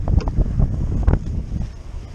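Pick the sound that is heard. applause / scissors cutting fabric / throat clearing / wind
wind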